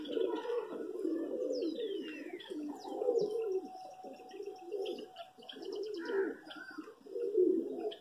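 Pigeons coo in low, throaty repeated phrases while coming in to land, mixed with a few higher chirps and thin whistling calls, close and steady throughout without speech.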